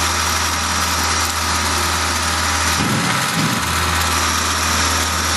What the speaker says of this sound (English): this is cutting a 1/4 inch radius arc on the inside surface